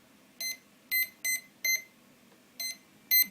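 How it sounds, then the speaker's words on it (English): Quadcopter electronic speed controllers beep in short tonal bursts, six spaced chirps at an uneven rhythm, fairly close and clear over a faint background hum. "The ESCs are still beeping because they haven't got any commands at all"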